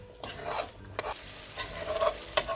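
Chicken karahi with chopped green chilies stir-fried in a pan, a steady sizzle broken by several sharp scraping stirs of a utensil, close and fairly loud, with no voices.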